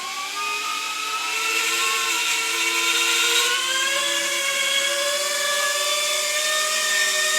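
FPV drone motors with a DJI O3 air unit whir steadily at high pitch, holding a loud, continuous tone that rises and falls slightly as the throttle shifts.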